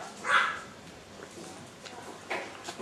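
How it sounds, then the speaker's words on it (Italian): Dogs barking at a house in an old village on Alonissos, a loud burst near the start followed by a few fainter, scattered barks and yips over quiet background. "Un incontro di cani in una casa."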